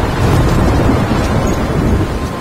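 Loud, dense storm noise from Life is Strange: heavy rain and a deep thunder rumble filling the scene, close and continuous, without speech.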